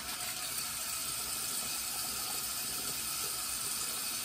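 Tap water runs steadily into a sink as a face is rinsed while shaving, a close and constant hiss with no talking.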